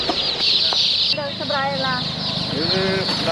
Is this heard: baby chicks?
yes